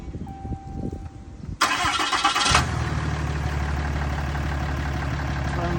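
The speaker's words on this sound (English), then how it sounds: "So you come in and turn the vehicle on." A 2015 Ram 3500 diesel truck engine cranks briefly after quiet cabin sounds, then catches and settles into a steady, loud, rumbling idle close by.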